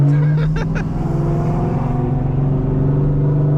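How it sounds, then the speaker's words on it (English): A Camaro ZL1 engine hums steadily at close range while driving, a low droning note with a few brief throttle blips near the start, no talking over it. "just let y'all hear the car now"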